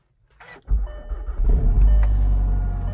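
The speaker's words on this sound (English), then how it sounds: "here is a cold start on the GTI" A Volkswagen GTI engine starts from cold: a brief starter whir, then the engine catches with a deep, close rumble and settles into a rough, steady idle.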